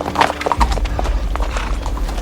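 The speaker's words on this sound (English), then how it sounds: "Simon, ensure the horses are properly stabled." Horse hooves clip-clop in a steady rhythm on hard ground, with a brief whinny early on and a low rumble underneath.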